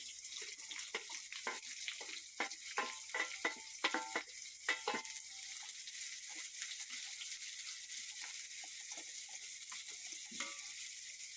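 Chopped onions and a sprig of curry leaves sizzle in a pan for a homemade beetroot masala curry, a steady hiss broken by crackles and light stirring knocks at the start, with no talk.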